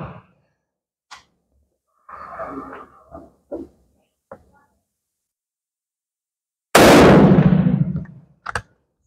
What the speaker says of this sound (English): I'm going to shoot the target on the left now.